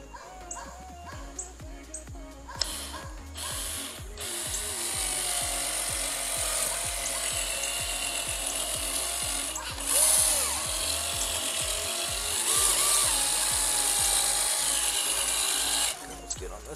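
A drill spinning a polishing pad to buff a plastic headlight lens, starting slow and then running at full speed with a steady whirring drone. A dog barks and a voice speaks at times.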